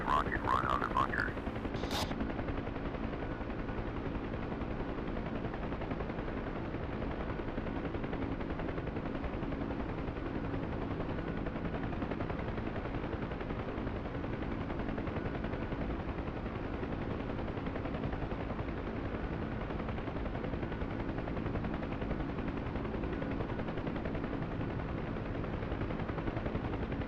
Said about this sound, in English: We start our first rocket run on the bunker.